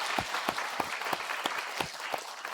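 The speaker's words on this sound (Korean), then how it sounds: "우리 감사의 박수 한번 올리십시다." A church congregation gives a short round of thankful applause during a Sunday worship service, a dense patter of many hands clapping steadily in a large room for a couple of seconds, without voices over it.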